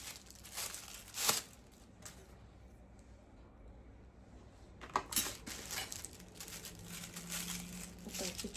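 Steel spoons of several sizes, teaspoons and curry spoons, clink and rattle as they are handled, with scattered sharp metallic taps and crinkling of packaging at close range.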